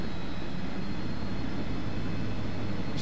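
Jet engine of a Delta DC-9 in Flight Simulator 2004 spooling up after start, a steady low hum with a thin high whine, moderate and constant, no talking.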